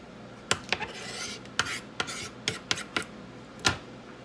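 A knife slices through food on a cutting board for a low-carb keto pizza: a dozen or so crisp, close cutting strokes and taps in an irregular rhythm over quiet background.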